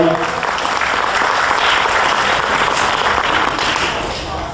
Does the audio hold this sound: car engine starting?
no